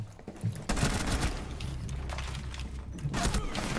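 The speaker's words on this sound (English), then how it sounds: "Oh, I'm getting shot by peoples!" Gunfire in a video game, several sharp bursts of shots with a loud cluster near the start and more cracks later, set against a mechanical rattling background.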